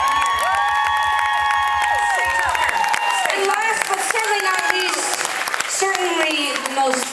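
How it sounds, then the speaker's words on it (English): Concert crowd at an outdoor show at the NC Museum of Art in Raleigh claps and cheers steadily and loudly during band introductions, with voices and whoops mixed through the applause. "Extra round of applause extra for Vivi."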